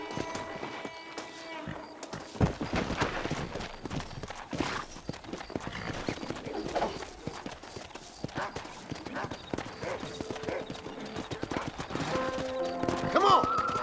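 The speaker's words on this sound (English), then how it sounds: "Let's see if we can't wrangle some horses." Horses clip-clop and gallop with rapid, uneven hoofbeats in the video game Red Dead Redemption, joined by occasional whinnies and game music toward the end.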